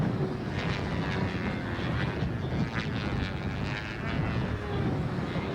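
A model airplane engine flying at a competition, a steady loud buzzing drone holding throughout with slight rises and falls as the plane passes, no talk.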